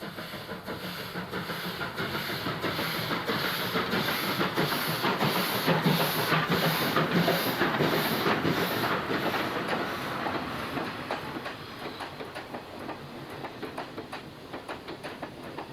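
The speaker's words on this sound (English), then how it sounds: "another work-weary WP leaves Moradabad with a mixed train" An Indian Railways WP steam locomotive leaving Moradabad chuffs along with rhythmic puffs and hissing over the clatter of a mixed train's wagons, loud at first and gradually fading as the train passes.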